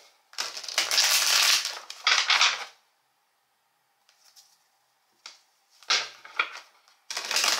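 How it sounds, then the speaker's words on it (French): Tarot cards are drawn and shuffled in several bursts of crisp riffling and sliding, with a quiet pause in the middle and a few soft taps of cards being set down. "Donc je vais vous prendre quelques cartes ici du tarot."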